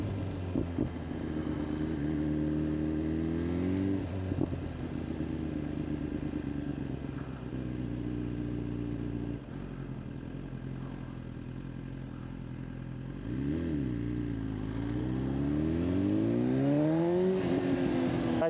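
BMW S1000RR sport motorcycle fitted with an Akrapovic exhaust, revving loudly and close: a sustained high idle with repeated sharp throttle blips that sweep up and fall back, the last rev climbing hardest.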